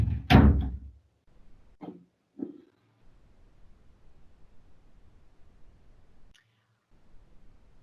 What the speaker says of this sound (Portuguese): eu vou só fechar a porta aqui